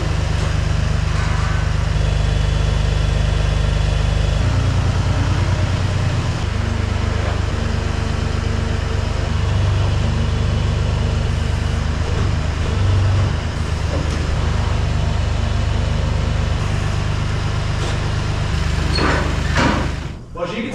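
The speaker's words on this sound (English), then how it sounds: "See if the tractor does what I think she can do." Tractor engine running at a horse stable, a loud steady low drone throughout with shifting load, and a few clunks near the end.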